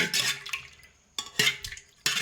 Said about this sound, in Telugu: అందులో కొంచెం తేనె ఇలా వేసి కలిపేసి